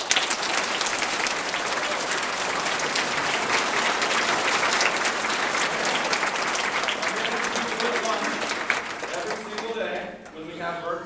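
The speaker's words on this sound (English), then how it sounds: "we're going to give one big round of applause for Heather" A room full of people gives a big round of applause for Heather at a soldier's homecoming surprise, dense steady clapping throughout that thins near the end as voices and cheers come through.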